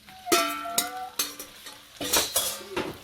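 Beef being stirred in olive oil in a pan for a keto beef and veggie stir-fry: a spoon or utensil clinks and scrapes against the pan in irregular bursts, with light sizzling underneath.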